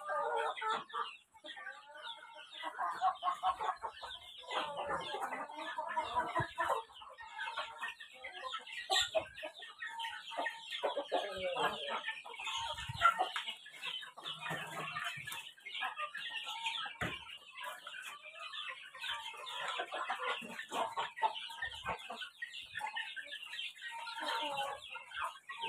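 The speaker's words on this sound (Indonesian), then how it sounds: "Ini induk ayam saya berat-berat ini." Free-range native village hens, heavy laying mothers, cluck and murmur steadily in a close flock, with overlapping calls and occasional louder squawks throughout.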